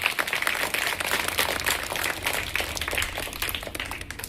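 Schoolchildren at a government school clap together in steady, dense applause that carries evenly throughout, with no clear voices over it.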